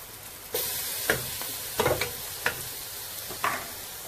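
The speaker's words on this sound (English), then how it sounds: "So now the onion is brown. So we add our garlic" Garlic added to browned onion frying in a pan for Gambian chicken and peanut stew, a low constant sizzle with a handful of spaced scrapes and clacks from stirring, close up and alone.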